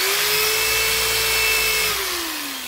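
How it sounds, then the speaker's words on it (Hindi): A heavy Buildskill professional electric drill bores into a wooden window frame, giving a loud, steady motor whine throughout that drops slightly in pitch near the end as the bit works through the wood. "ये खिड़की है तो इसमें एक बार ड्रिल करके देखते हैं कैसा इफेक्ट आता है"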